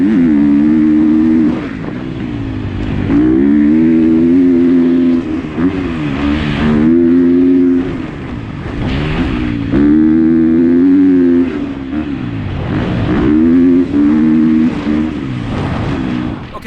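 A 2020 KTM 250 SX-F four-stroke dirt bike ridden on a motocross track, its loud engine revving up and down in repeated surges and shifting pitch as it accelerates and backs off, with no talk.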